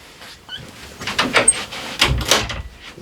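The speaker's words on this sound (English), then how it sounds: "just going to close the door." An indoor door being closed, a few close, soft knocks and a muffled thud spread over a couple of seconds, with no one talking.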